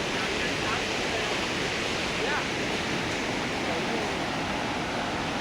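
Water in a river in Munnar rushes steadily, a dense, constant broadband roar from start to end with no breaks, close and fairly loud, and no clear voices on top.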